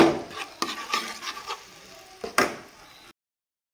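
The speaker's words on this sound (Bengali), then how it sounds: "আমি গাজরটাকে আমি ভেজে নেব সুন্দর করে" Carrot frying in ghee in a pan, with intermittent scraping and stirring strokes over a soft sizzle, fairly close, ending abruptly in silence.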